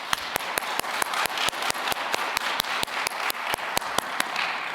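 Sharp, evenly spaced claps ring out one after another, roughly four per second, each a crisp separate crack over quiet room tone, like a small group at a church presentation clapping in unison.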